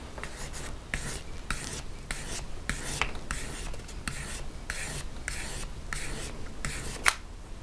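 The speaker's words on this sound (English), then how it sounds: "And because we're sanding this area" Rhythmic back-and-forth rasping of sanding a metal jewelry ring, steady strokes repeating about twice a second, close and moderately loud.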